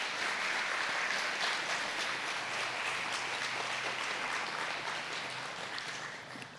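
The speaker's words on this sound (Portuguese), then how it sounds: "Pode aplaudir." A church congregation applauds during a sermon, giving dense, continuous clapping that holds steady and then fades slightly toward the end, heard alone without talk.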